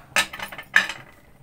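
A spoon scrapes and clinks through a potato masala mixture with chopped fresh coriander in a home kitchen, two quick close stirring bursts with a fading rattle, no talk.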